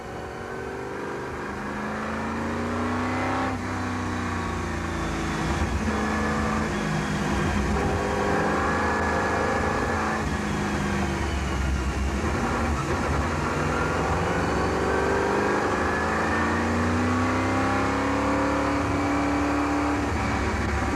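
Lola race car engine during a wet endurance race, a continuous loud drone with rising and falling pitch through gear changes and corners, heard close and steady throughout with no talk.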